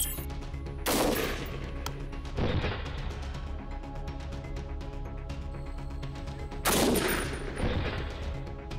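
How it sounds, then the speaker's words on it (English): SR-25 .308 rifle fired at armored Mercedes-Benz sedans on an outdoor test range, with two loud sharp reports, each followed by a fainter crack, over steady background rumble and no talking. "today I'm gonna shoot the SR-25-308"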